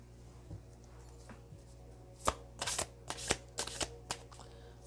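Tarot cards being shuffled in a run of crisp riffling bursts during a reading, starting after a quiet stretch and growing busier toward the end, close and moderately loud with no talking.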